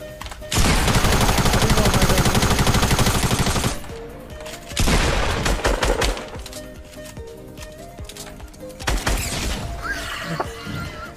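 Gunfire from the video game Fortnite, a loud, dense burst of rapid shots for about three seconds, followed by two further shorter bursts with quieter gaps between them.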